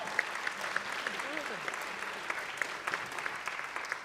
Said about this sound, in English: You can give her a round of applause if you'd like.